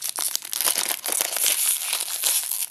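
Thick plastic foil packaging around a toy figure from a building-block set gets torn open, giving a close, continuous crinkling and crackling with sharp rips throughout and no talk.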